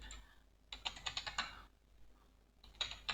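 Numbers are typed on a computer keyboard and enter is pressed, producing two bursts of rapid, close, crisp key clicks separated by a short pause.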